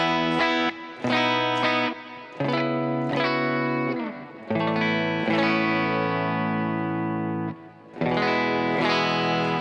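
Clean electric guitar plays a series of ringing chords and sustained notes, bright and crisp with little distortion, with brief pauses between phrases.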